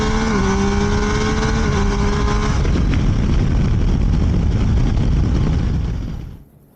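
Triumph Tiger Sport 800 motorcycle engine roaring loud and close, with a steady rising induction drone and tonal pitch shifts early on, then sustained throttle noise that cuts off sharply at the end.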